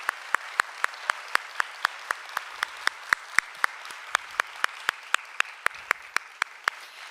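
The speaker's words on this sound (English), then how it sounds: "can we please give these amazing women another round of applause?" Sparse, evenly spaced claps from a small audience at a Women in Leadership event, about three per second, sharp and distinct with no talk over them.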